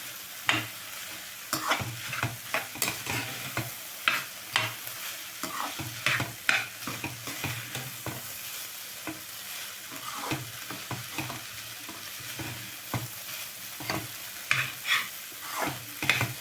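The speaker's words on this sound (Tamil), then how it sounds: "நல்லா பரட்டி விடுங்க." A snake gourd and moong dal stir-fry sizzles in a pan as a spoon stirs and scrapes it, with irregular clattering strokes over a steady, close frying hiss.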